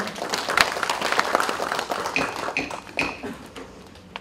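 Members at a forum's founding general assembly clap to approve a motion, a loose patter of hand claps with a few sharper strikes, moderately close and lasting about four seconds.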